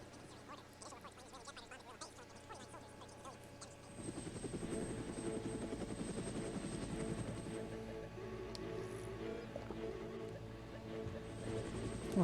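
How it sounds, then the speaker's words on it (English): A helicopter in a Dungeon Keeper game cutscene, played on a Matrox Millennium G450 graphics card, chops in after a few seconds, its rotor thudding loud and steady over a whining high tone and holding for the rest. "there's a helicopter coming"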